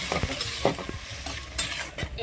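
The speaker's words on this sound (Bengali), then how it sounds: "এবার আমি পরিমাণ মতন জল দিয়ে দিচ্ছি, নাড়াচাড়া করে দিচ্ছি।" A pan of Puti fish curry is stirred just after water goes in, giving a soft sizzle with several scraping strokes of a spoon against the pan at an uneven pace.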